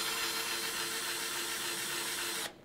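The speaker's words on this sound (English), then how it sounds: "It's going to start oscillating, and then I'll start rotating the drill." An electric drill whirs steadily during a pendulum oscillation demonstration at a lecture on Foucault's work, a continuous even motor hum that stops abruptly near the end, heard alone without talking.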